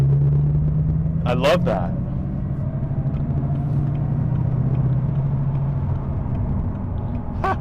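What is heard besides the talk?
Bugatti Chiron Sport engine idling at low RPM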